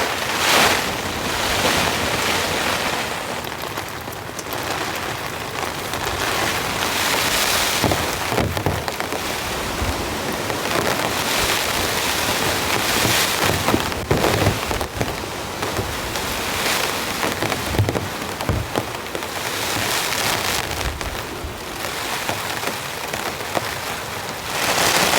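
Strong, steady roar of wind and heavy rain at a campsite during a storm, constant and loud throughout with surging gusts, no voices.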